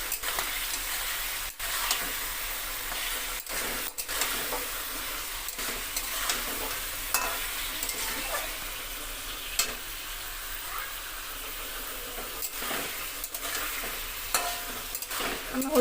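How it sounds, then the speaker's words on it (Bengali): Mutton seasoned with turmeric and salt is stirred in a pan, with a continuous close sizzle broken by repeated sharp scrapes and clicks of the spoon against the metal. "এটা একটু এবার নেড়ে দেবো।"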